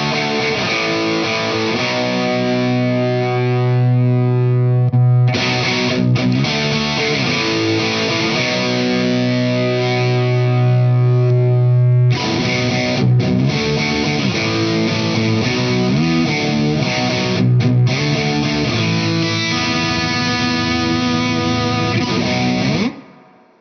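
Electric guitar played through an Origin Effects Hot-Rod Revival Drive compact overdrive pedal, loud sustained driven chords with brief gaps where the pedal flips between its two channels and the tone shifts.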